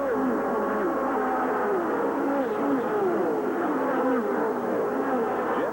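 1988 NASCAR Southwest Tour stock cars racing into turn three, a dense continuous roar of engines with rising and falling pitch as the pack circles, loud and steady.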